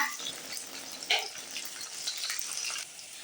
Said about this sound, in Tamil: இப்போ பாருங்க கோன் நல்லா பொரிஞ்சு எந்த அளவுக்கு அந்த பப்பிள்ஸ் எல்லாம் அடங்கிடுச்சு பார்த்தீங்களா